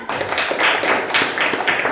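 Clapping from a classroom audience during a computational thinking and coding lesson, a short burst of moderately dense claps in uneven surges.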